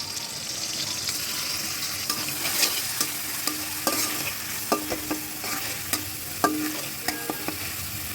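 Onion, ginger and garlic paste fry in a pan for egg korma, giving a soft steady sizzle, while a spoon stirs it with repeated close scraping taps at an irregular pace, with no one talking.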